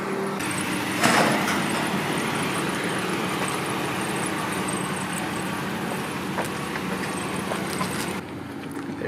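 A small 40-horsepower Honda Civic engine runs steadily nearby, its drone holding then easing off as the car pulls away, with a brief clatter early on.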